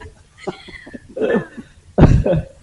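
A person coughs a few times in quick bursts, the last one loud and harsh, during a quiet indoor Dharma talk.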